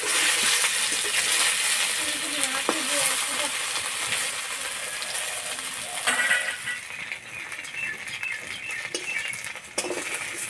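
A flattened rice snack with curry leaves frying in a pan, a soft continuous hiss with light clinks and patters, fairly close and fading somewhat later on.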